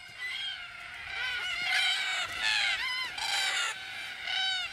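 Cockatoos screech in harsh, repeated calls at an evening watering hole, a boisterous flock with overlapping cries rising and falling in bursts.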